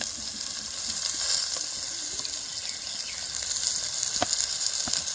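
Thinly sliced onions, about 200 grams, sizzle steadily in hot oil for gongura mutton curry, a close, continuous crackling fry with occasional soft stirring clicks.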